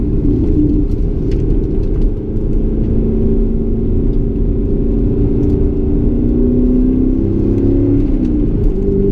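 A 627-hp Callaway Corvette engine rumbles loudly and continuously as the car circles a figure-eight track, the revs rising and falling slightly with a steady droning whir throughout.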